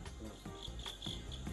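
A fighting cricket chirps in loud, ringing bursts, several bright trills pulsing one after another close to the microphone with no talk over them.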